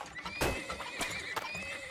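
In the video game Turmoil a horse neighs in a faint, whinnying tremble over soft clip-clop hoof sounds and light background noise, with short bursts of louder hoof or impact noise mixed in.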